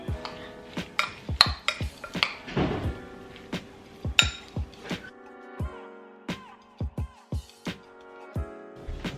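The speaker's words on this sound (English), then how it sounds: "Then just a little bit of cinnamon. Mix that up." Ingredients being stirred in a bowl with a utensil after adding cinnamon, giving a series of close, sharp clinks and scrapes against the dish, irregular and fairly loud, with no talking.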